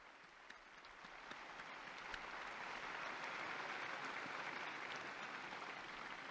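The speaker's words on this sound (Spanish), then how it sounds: "Un aplauso para el nuevo beato" Crowd applause for a newly beatified person at an outdoor papal Regina Coeli prayer, a broad, steady wash of clapping from a large distant gathering that swells slightly and holds without any voices over it.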